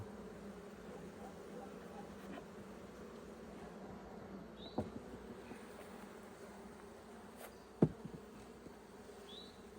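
Honey bees hum around a hive in steady, low, continuous buzzing, with a few louder close passes and faint background voices.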